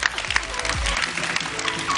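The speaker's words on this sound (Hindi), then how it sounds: "तालियां। please।" Studio audience applause on a morning TV show: a brief burst of clapping at moderate loudness, lasting only a couple of seconds.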